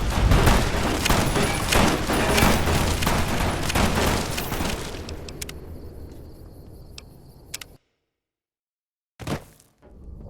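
Heavy, dense gunfire in Fallout: New Vegas, a loud sustained fusillade of overlapping shots for several seconds that thins out, cuts to silence, then returns with a brief final burst.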